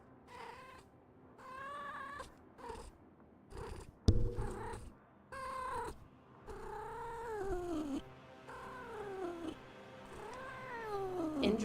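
A female cat in heat gives repeated drawn-out, wavering meows and yowls in close succession, with purring and low handling noises between the calls.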